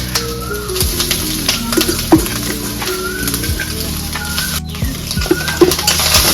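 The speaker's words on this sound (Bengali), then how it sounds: "ভাত তো এখন আমি দিয়ে দিচ্ছি ভাত যেটা রাত্রে বাঁচে গেছিলো" Leftover rice goes into a hot pan with egg and is stirred, making a constant sizzle with repeated scraping and clinking of a spatula. Birds chirp faintly in the background.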